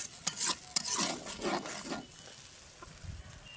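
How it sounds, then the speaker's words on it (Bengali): Ground spice paste being sautéed in a pan, a few quick scraping stirs with soft sizzling close by in the first two seconds, then fading to a quiet low hiss. "এখন ভালো করে আগে মশলাগুলোকে কষিয়ে নেব"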